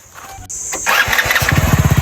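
A motorcycle that has trouble starting finally fires up: a cranking burst, then the engine catches into a loud, close, pulsing idle with an even throb.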